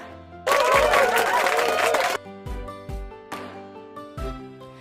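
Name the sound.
applause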